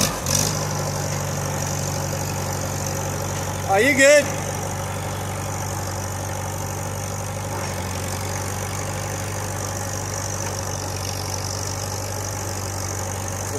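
A farm tractor engine idles steadily throughout, a low continuous rumble up close, with a brief clatter and short spoken remark about four seconds in.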